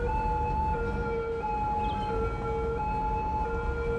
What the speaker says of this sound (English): These bloody sirens, I don't know if you can hear them like I can, but they drive me up the wall.